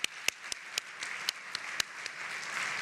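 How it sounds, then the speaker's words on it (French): Audience applause at a nursing research symposium honoring an award recipient, a soft, distant wash of clapping with a few sharper, closer claps standing out. "Alors on l'applaudit encore une autre fois."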